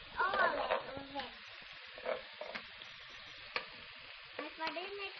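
Ampalaya and sotanghon with tomato stir-fried in a pan, quiet sizzling broken by repeated scraping stirs and utensil clicks, with a brief voice murmuring near the start.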